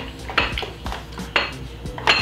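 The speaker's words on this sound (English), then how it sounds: "So you gotta continue to mix with spoon" Spoon stirring MRE dessert mix in a bowl, with close clinks and scrapes of metal against the bowl in a few quick, irregular strokes.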